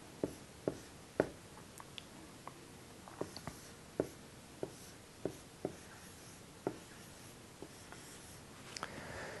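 The number fifteen is handwritten, giving a sparse series of sharp, close pen or pencil taps and short strokes with quiet pauses between them and no talk.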